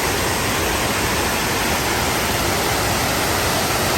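Tuscarora Falls at Ricketts Glen State Park roars as a steady, loud, broadband rush of falling water with no break and no voices.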